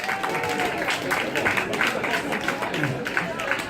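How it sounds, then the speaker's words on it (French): A stage audience at a French-language show claps in a dense, continuous burst of applause, with crowd noise and some voices blended in throughout. "Allez, on peut applaudir quand même Marc"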